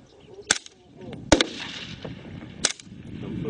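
Small-arms gunshots, three sharp distinct cracks spaced irregularly over a few seconds at moderate distance, with wind and faint background noise between shots.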